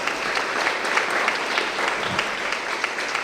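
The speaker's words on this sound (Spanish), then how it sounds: "Entonces le damos un fuerte aplauso a nuestro profe," Parents at a meeting for a youth football and basketball camp give the coach a brisk round of clapping, a dense burst of hands that stays lively and even for a few seconds.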